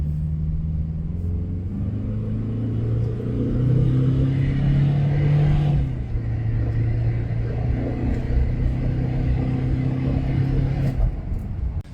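A car driving on the road toward a gas station, heard from inside as a steady low engine rumble and road hum with a slight rise in revs partway through, no talking.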